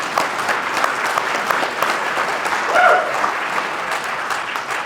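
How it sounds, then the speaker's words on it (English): An audience applauds at a regional police Top Cop awards ceremony, a dense, steady round of clapping from a crowd in a hall, loud and sustained with no talking over it. "we can have a round of applause."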